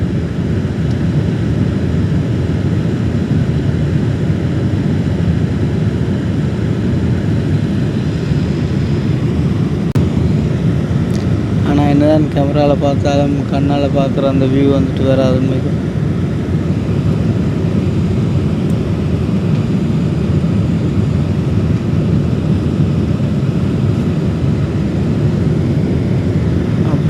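Inside an airliner cabin in flight, the engines make a steady, even drone that fills the whole stretch, while someone speaks partway through.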